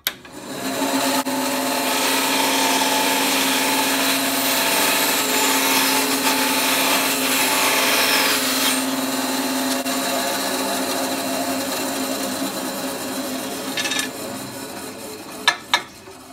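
A pen clip blank is cut while being rotated, a loud continuous whirring grind that runs steadily for most of the time, then eases off into a few brief clicks and knocks at the end.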